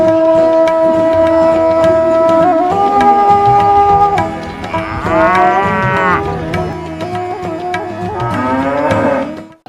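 Cattle low repeatedly at a busy village cattle market in Muladi, with long, loud moos close by, several animals calling in turn and overlapping.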